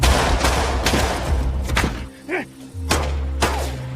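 Loud, sharp bangs of gunfire in a shootout fire in irregular bursts over a dense, rumbling background, with a brief whistling tone in a lull between them.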